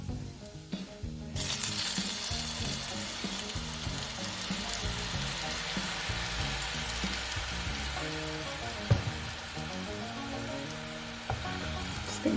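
Two tablespoons of honey bubble and sizzle in a hot pan in a steady, dense crackle, close and fairly quiet, with a few soft scrapes of stirring.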